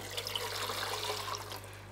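Water is poured by hand into a hang-on breeding box for Neocaridina or Caridina shrimp, a soft, close trickling splash over a steady low electrical hum.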